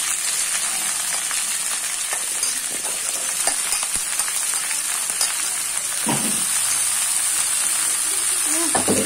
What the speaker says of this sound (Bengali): এটাকে এখন ভাজবে।